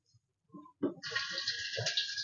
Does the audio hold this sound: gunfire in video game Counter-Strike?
no